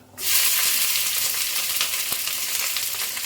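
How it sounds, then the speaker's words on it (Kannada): Mustard seeds and green chillies hit hot oil for pongal and burst into a loud, continuous hissing sizzle that starts abruptly and holds steady with faint crackles throughout. "ಈಗ ಫಸ್ಟ್ ಸ್ವಲ್ಪ ಸಾಸಿವೆ ಸೇರಿಸ್ಕೊಳ್ಳಿ"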